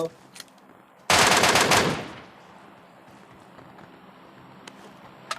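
A loud, rapid burst of automatic gunfire in PUBG Mobile lasts about a second before cutting off into quiet background ambience, with a few faint distant pops near the start and end.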